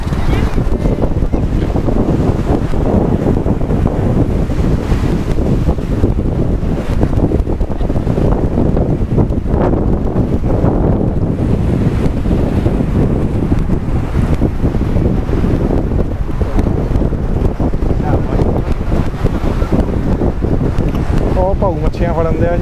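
Sea waves and wind at a Goa beach, a loud continuous rush of surf with heavy wind buffeting the microphone, steady throughout with no clear pauses.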